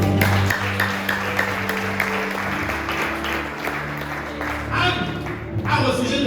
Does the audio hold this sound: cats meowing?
no